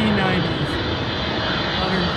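Broad, steady roar of a Philippine Airlines Boeing 777-300ER's GE90 jet engines as the airliner arrives at Vancouver airport, heard from nearby with a voice blended into the noise.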